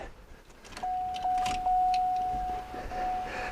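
A car's electric fuel pump primes with the key on during a no-start diagnosis, a faint steady whine that starts partway through and holds for about two seconds with a brief return, accompanied by soft clicks.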